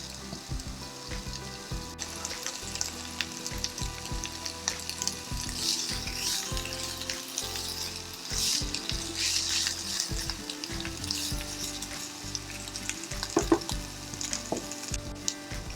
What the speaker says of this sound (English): then add the onions and cook them until they soften